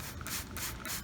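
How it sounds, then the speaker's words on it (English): A water spray bottle spritzes an outdoor sculpture surface during cleaning. Three quick, even hissing bursts come in a steady rhythm, close and moderately loud, with no talking. "You can just spray things down with this."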